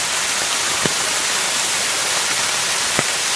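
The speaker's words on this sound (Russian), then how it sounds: "водопад подземных вод" Groundwater waterfall deep in a quiet forest in Japan, a steady broadband rush of falling water with no voices and a couple of faint clicks over it.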